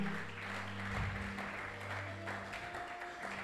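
A church congregation applauding for Jesus, a continuous, fairly soft wash of clapping from a crowd, blended with a low musical hum and occasional faint voices.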